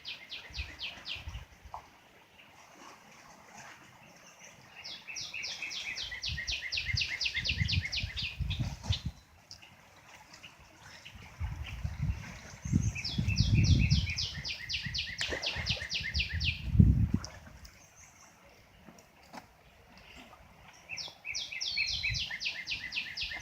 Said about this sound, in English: A lot of birds flying around.